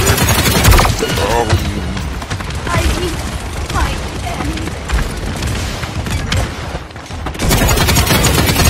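Dense, continuous gunfire from the online shooter Paladins in Siege mode, loud and sustained with rapid overlapping shots throughout, briefly dipping near the end before surging again.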